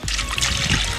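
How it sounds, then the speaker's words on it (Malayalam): Water is poured into a cooking pot already holding kudampuli, curry leaves and turmeric for a fish dish, making a steady, loud, close rushing trickle that lasts the whole moment. "ഇനി അതിലോട്ട് വെള്ളം ഒഴിച്ചു കൊടുക്കുക."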